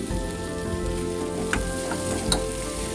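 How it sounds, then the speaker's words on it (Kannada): Salt-seasoned food frying in a pan for a Karnataka ragi mudde and peanut thambuli meal, a steady close sizzle with a few brief stirring clicks and pops, no voices. "ಸೊ ಉಪ್ಪು ಹಾಕ್ಕೊಂಡು ಒಂದು ಸ್ವಲ್ಪ ಹೊತ್ತು ನಾನು ಇದನ್ನು ಫ್ರೈ ಮಾಡ್ಕೊತೀನಿ"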